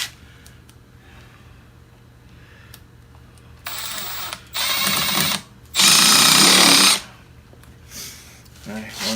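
A power drill drives screws into a wooden shop vise in three short, loud bursts of rising length, set against a quiet workshop background.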